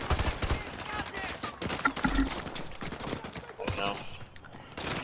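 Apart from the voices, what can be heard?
gunfire in Modern Warfare 2 video game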